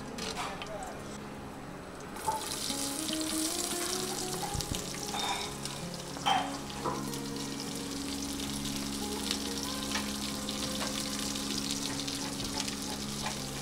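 Onion and whole spices fry in homemade ghee in a home kitchen, a steady close sizzle that swells after the first two seconds and continues throughout, with voices faintly present in the background.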